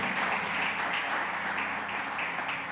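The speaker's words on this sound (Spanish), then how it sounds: "let's give a big applause to the Lord." A church congregation applauds in a steady, dense wash of many hands clapping together, sustained and fairly loud throughout with no voices on top.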